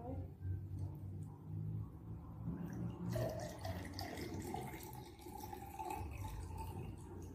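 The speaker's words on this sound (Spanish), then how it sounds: "Y ahora vamos a echar el agua" Water is poured into a glass for a simple refraction experiment, a steady splashing, filling sound with a low rumble and a voice faintly present.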